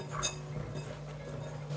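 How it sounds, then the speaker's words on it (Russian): A utensil clinks against a bowl while stirring salted eggplant, one bright, quiet tap near the start followed by soft scraping and a faint hum. "Перемешиваю."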